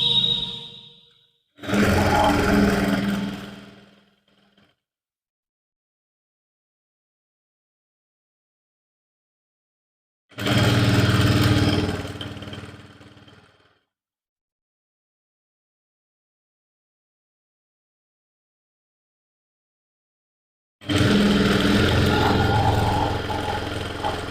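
A sewing machine stitching the folded hem of a suit lining: three separate runs of steady mechanical whirring and clatter, each a few seconds long, with silent pauses between them.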